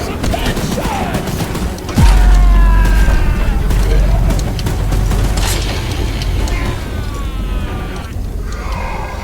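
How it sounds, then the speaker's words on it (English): Rapid automatic gunfire aimed at the monster train Choo-Choo Charles in a horror video game, loud and sustained over rumbling mechanical game sounds, with shouted voices over it. "Light him up! Careful! Don't let the gun overheat!"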